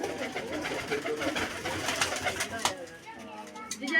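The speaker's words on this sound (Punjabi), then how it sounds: "ਬਹੁਤ ਵਧੀਆ ਨੇ ਕਬੂਤਰ ਮਹਿੰਗਾ ਜੋੜਾ ਇਹਨਾਂ ਦਾ" Pigeons coo steadily over a rustling, noisy background on a farm, with faint voices mixed in and cooler fans running.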